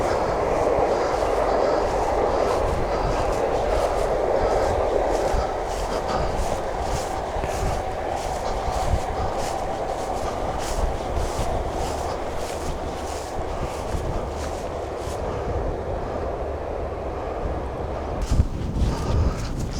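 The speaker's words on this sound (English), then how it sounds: "6 car, class 195. And the Cleethorpes to Liverpool train." A six-car Class 195 passenger train rumbles past for a long stretch with rhythmic clickety-clack of wheels over rail joints, loud and close, fading slightly near the end.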